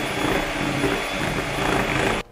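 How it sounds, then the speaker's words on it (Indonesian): An electric mixer stirring cake batter of plain yogurt and oil at its lowest speed, a steady whirring motor drone that stops abruptly at the end, with no voices. "Terus kita aduk pakai speed paling rendah"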